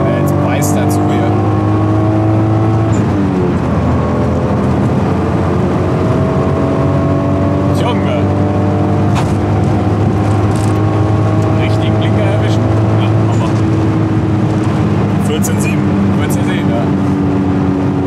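A right-hand-drive Toyota Supra engine pulls hard during a 100–200 km/h acceleration run, its loud rising drone with sweeping harmonics heard from inside the car, with occupants talking over it.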